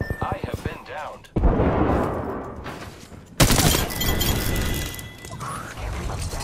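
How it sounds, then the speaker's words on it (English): Gunfire in Apex Legends erupts in dense bursts of rapid shots, loud and close, with impacts and game effects layered over it and a voice speaking intermittently. "The enemies are shooting at me."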